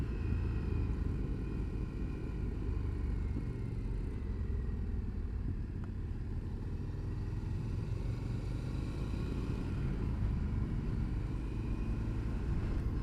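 Steady low rumble of an Indian FTR S motorcycle with a 17-inch front wheel, a 2021 model, being ridden, a constant engine drone with road and wind noise throughout and no voices.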